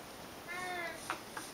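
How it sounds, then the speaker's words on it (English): A cat in the Minecraft video game gives a short meow followed by two brief chirping mews, quiet and close, with no talk. "Oh, there's even a cat here."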